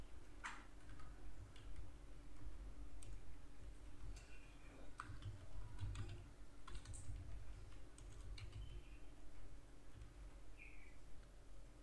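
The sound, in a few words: typing text on a computer keyboard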